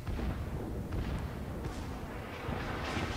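Naval gunfire from warships in a battleship game trading broadsides, with steady rumbling heavy gun reports and booming bursts layered continuously through the moment.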